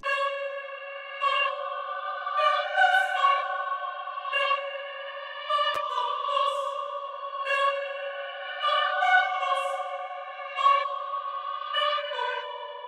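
Dark orchestral-style vocal sample, reversed and layered with the original in FL Studio, forming sustained tonal chords that shift in slow phrases, wrapped in heavy echo and reverb, with no talking.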